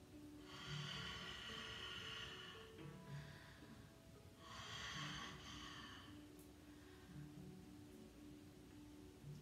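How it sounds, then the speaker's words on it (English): Long, deep breaths during a yoga flow, two extended airy exhales several seconds apart, soft and close over a faint background hum. "a long, deep exhale"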